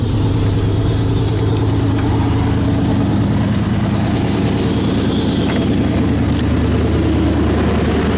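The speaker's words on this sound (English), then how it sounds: "can hear the air in back running into the tank." An on-board air compressor on a Chevy fills a 10-gallon tank beside the idling engine, a close, continuous low drone with a faint airy hiss over it.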